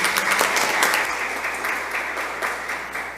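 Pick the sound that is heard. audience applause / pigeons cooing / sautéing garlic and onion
audience applause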